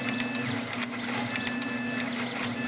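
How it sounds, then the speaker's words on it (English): An automated wire cutting machine cuts and strips spark plug wire, giving a steady mechanical whir with a loud low hum and rapid repeating clicks as the blades close, continuous and close, with no talking. "You can see the cutting blades completely closing to cut the wire, and then only partially closing to cut the strip length."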